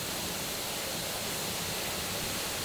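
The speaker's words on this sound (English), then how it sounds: "Come to this waterfall. It's beautiful." A waterfall in a fairy-tale town in Germany gives a steady, dense rushing roar that fills the scene evenly from start to finish, with no voices over it.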